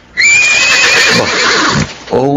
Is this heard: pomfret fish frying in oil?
no